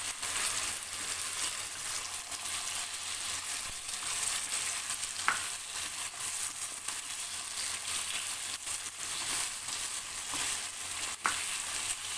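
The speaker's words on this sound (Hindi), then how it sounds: "दो से 3 मिनट मैं इसको भूनूंगी आलूओं को" Potatoes fry in a pan over a lowered flame, giving a steady, even sizzle throughout with a couple of faint utensil clicks and no talking.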